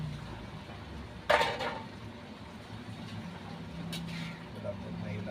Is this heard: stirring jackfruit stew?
yes